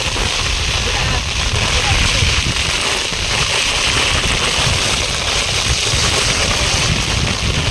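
A heavy downpour roars steadily and evenly, a dense hiss that fills the whole space without letting up.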